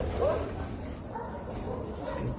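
Dogs bark and yip during a magnitude 6.9 earthquake in Mexico City, a short bark standing out early over steady background noise while people talk nearby.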